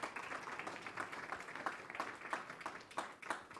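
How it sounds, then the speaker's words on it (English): A small gathering at a spiritual community service applauds, soft scattered clapping that swells and pulses in uneven bursts, fairly faint and somewhat distant. "Let's give her another round of applause."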